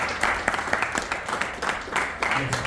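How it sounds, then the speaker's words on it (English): A faculty audience at a university orientation session claps in a steady, fairly loud patter of many hands, continuous with small surges, and a few voices mixed in. "So please, now clap, my dear friends. Clap happily."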